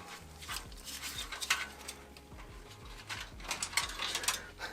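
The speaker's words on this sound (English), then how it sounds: "we'll be removing the top fans here" Top fans come out of a PC case during a Corsair H150i Elite Capellix liquid cooler install, one a former RGB fan with its wires cut. Close, repeated mechanical clicks and ratcheting taps sound in an irregular rhythm, with no talking.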